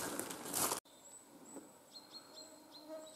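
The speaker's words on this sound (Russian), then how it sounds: "Пение птиц таких." Faint high chirps and tweets of birds singing in the distance in an August forest, after a brief rustling noise, with a soft outdoor background.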